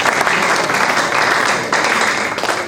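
Audience at a law moot competition applauds to mark a book launch, a loud, steady wash of many hands clapping at once that holds for the full stretch without a break.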